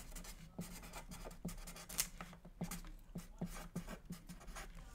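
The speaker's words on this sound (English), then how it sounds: "You're going to write down their first name, their last name, their date of birth 3 times across the parchment paper." Pen scratching across parchment paper in a series of short irregular strokes, close and quiet, with no talking, as names and dates of birth are written out repeatedly.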